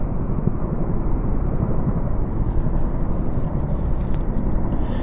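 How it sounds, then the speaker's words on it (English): Chinook twin-rotor helicopters pass overhead in the Platinum Jubilee flypast, a continuous distant rotor rumble with soft low thudding that carries through the whole stretch. "Distinctive double blades. Rotary blades of the Chinooks."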